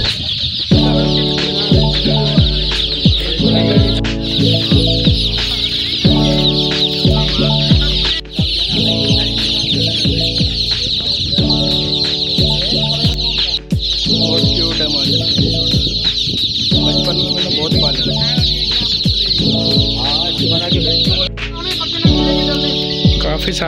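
Many chicks packed in boxes, being carried from Hyderabad to Tando Adam for a poultry farm, chirp in a dense, continuous, loud chorus over a rhythmic lower rumble.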